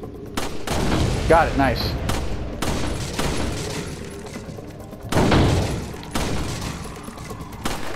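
Gunshots in the Resident Evil 4 shooting gallery, a series of sharp, loud shots fired at intervals with brief pauses between, while a person talks briefly over the action.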